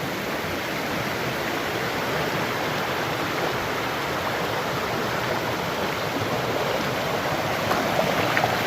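Water rushes steadily along a hidden river, a dense, continuous broadband wash with no breaks, close and fairly loud, with no voices.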